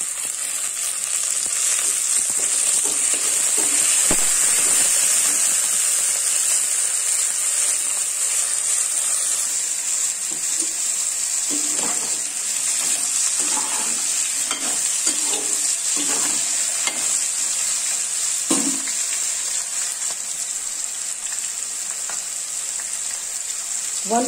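Tomatoes hit a hot pan for a garam masala vegetable curry and fry with a loud, steady sizzling hiss, joined by intermittent scraping strokes of stirring, close up with no talking.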